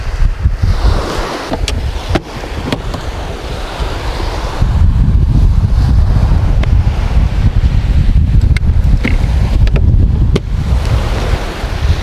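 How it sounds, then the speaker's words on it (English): Strong wind buffets the microphone at a Jamaican seashore during surf fishing, with steady roaring gusts and crashing surf filling the whole stretch, loud and continuous without speech. "The wind is getting very strong"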